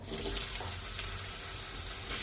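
Steady hissing sizzle of cut potatoes frying in hot oil, close and continuous, with no voices.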